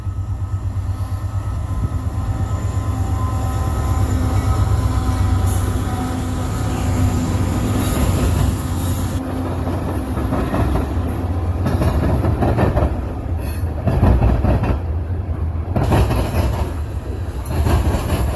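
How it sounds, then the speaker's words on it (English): A train rumbles steadily past through a rail diamond crossing with loud rolling wheel noise, rhythmic clacks and thumps as it rattles over the joints, fairly close. "That's what it sounds like going through a diamond of the intersection."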